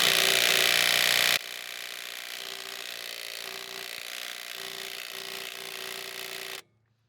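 A Milwaukee power tool runs hard at its highest torque setting, starting with a loud burst, then a steady buzzing whine with periodic ratcheting pulses for about five seconds before cutting off abruptly; no talking.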